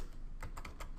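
Keys on a computer keyboard are struck in a short burst of several quick, close clicks over a steady background hiss.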